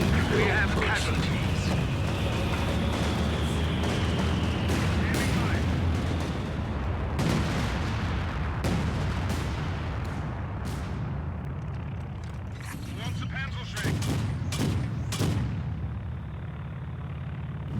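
Artillery bombardment and scattered gunfire from Company of Heroes 2 on a World War II battlefield, a steady dense roar broken by repeated sharp blasts and shell impacts near and far, with voices heard at times over the din.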